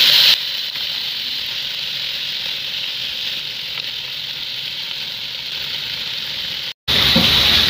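Steady, close sizzling of pork belly frying in a pan over low heat, a constant hiss that briefly cuts out near the end before resuming louder.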